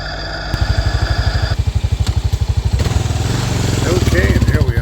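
A 2022 Kawasaki KLR 650 motorcycle climbing a dirt trail, its single-cylinder engine chugging in a rapid, steady rhythm that rises in revs, loud and close throughout.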